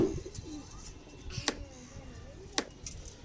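A breeder pigeon coos softly, with low murmuring calls through the clip and a couple of sharp clicks or taps.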